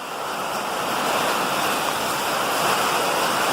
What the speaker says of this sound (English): That's pretty cool how you can see it dripping down from up here